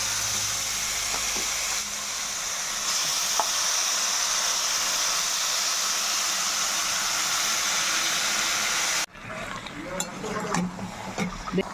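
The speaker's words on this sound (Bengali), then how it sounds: "এই মাখানো চিকেনটা আমি দিয়ে দেবো তেলের মধ্যে" Marinated chicken frying in hot oil with a bay leaf for biryani. A loud, dense hiss holds steady and then cuts off abruptly into quieter stirring and scraping, with a voice faintly audible.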